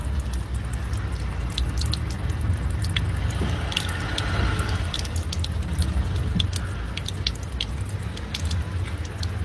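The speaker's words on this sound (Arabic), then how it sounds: "شوفوا الماء كيف راه يسيح" Water running and trickling out of a cleared clogged drain in a car, a steady close splashing flow with scattered drips, alone without talk.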